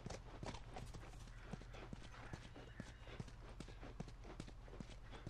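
Horse hooves clip-clop in a steady walking rhythm in The Last of Us, close and distinct over a low continuous background hum.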